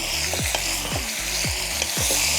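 Meat fat sizzles and browns steadily in a pan over an outdoor fire while a one-pot rice meal cooks, a continuous close frying hiss with a few low scraping stirs and no talking.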